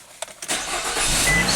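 Nissan car engine started with the key: a couple of brief starter clicks, then the engine catches and settles into a steady, fairly loud running roar close by.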